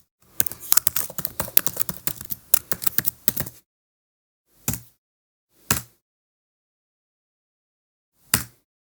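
Rapid typing on a computer keyboard while searching Twitter, a dense burst of close key clicks for several seconds, then three isolated single keystrokes spaced apart in quiet.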